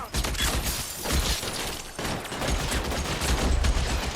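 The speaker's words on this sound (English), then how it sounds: "Open fire!" A shootout in the video game L.A. Noire, with dense overlapping gunfire and impacts in rapid irregular bursts, loud and continuous with brief lulls between volleys.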